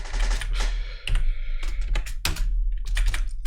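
Steady typing on a computer keyboard, a dense run of quick clicking keystrokes with short pauses and a few louder key hits, close and continuous, over a low background rumble.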